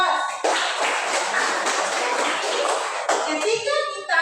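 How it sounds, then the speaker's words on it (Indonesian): Applause from a classroom group during a teaching practice lesson, dense steady clapping from many hands for about three seconds, then tapering off as voices return near the end. "berikan aplaus."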